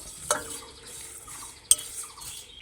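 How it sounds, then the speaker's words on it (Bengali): Spices dry-roasted in a dry pan over medium flame for raw mango pickle, stirred with a couple of sharp spoon knocks against the metal and light rustling scrapes in between. "তো মিডিয়াম জালে রেখে মশলাগুলোকে ভেজে নিচ্ছি।"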